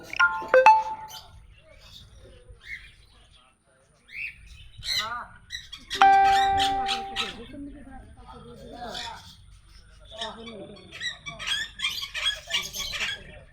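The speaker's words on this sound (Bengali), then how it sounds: "পাখির ডাকগুলো শুনলেই ভালো লাগে ভাই।" Birds chirp and call in a garden retreat, with scattered tweets and squawks near and far, one sharp electronic-sounding trill, and someone talking over much of it.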